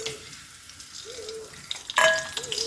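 Whole spices, cardamom, cloves and a piece of cinnamon, crackle and sizzle in hot oil, a steady close frying hiss with a sharper burst of spattering near the end.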